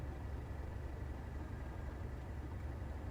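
Steady low engine drone of a train idling at a signal in Train Sim World 5, Southeastern Highspeed line, continuous and moderately quiet with no talk.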